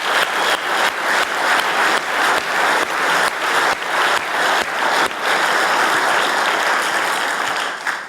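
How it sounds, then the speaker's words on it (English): A large conference audience applauds the kitchen staff, a loud, dense, steady roar of clapping held evenly for several seconds before tapering slightly at the end. "let's give all the staff a great round of applause"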